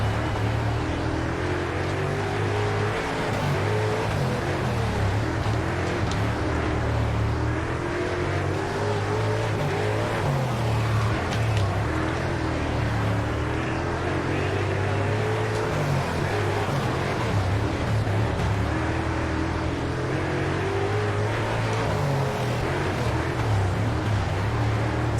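Dirt modified race car engines in the World of Outlaws racing game roar steadily throughout, several cars droning and revving together at close range in an unbroken, loud pack.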